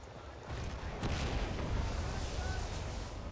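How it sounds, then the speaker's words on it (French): In the video game Enlisted, explosions and artillery-like booms rumble in a dense, continuous roar of battle, with a heavier blast about a second in and constant low thunder afterward. "Il y a eu un tank par contre, je crois. Ouais, vu les explosions qu'il y a"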